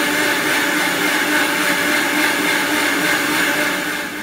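Kitchen mixer grinder whirring continuously as it grinds coconut and shallots into a curry paste, a loud steady motor whine with a rough grinding texture, running without pause.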